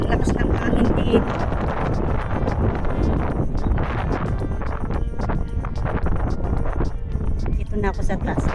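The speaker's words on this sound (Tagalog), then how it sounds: "Ang lakas ng hangin dito." Strong gusty wind roars against the microphone on a hilltop near Devil's Peak in Chung Hom Kok, Hong Kong, buffeting loudly and continuously while people talk through it.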